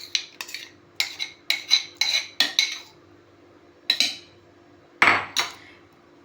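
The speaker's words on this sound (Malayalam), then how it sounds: "അതിന് നമ്മൾ മിക്സിയുടെ ജാറിലേക്ക് മാറ്റി" Chilled mango is spooned into a mixer jar, with a series of sharp metallic clinks and taps of utensil against container coming in irregular clusters, close and distinct against a quiet background.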